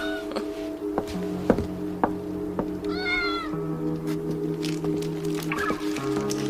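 A pet cat meows repeatedly indoors, with short cries scattered among soft thuds and knocks and a steady low hum underneath.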